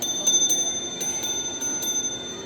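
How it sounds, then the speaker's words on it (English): Doorbell ringing with a series of quick, bright, repeated chime strikes, faint and alone against a quiet background. "She rings the doorbell."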